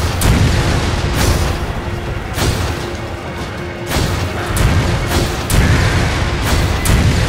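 Constant loud in-game explosions from Resident Evil 5, deep booms and blasts repeating every second or so, layered with gunfire in a dense, unbroken barrage with no talking.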